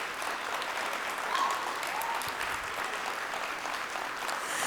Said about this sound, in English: So please give these students another round of applause.